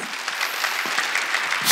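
A church congregation claps at a Korean New Year's Eve worship service, a steady, dense wash of applause from many hands that continues throughout without speech.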